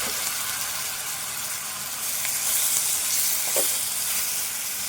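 Chopped tomatoes fry in hot oil in a pan for a potato fry, giving a steady, close, bright sizzle and crackle that swells slightly midway, with faint stirring and no voices.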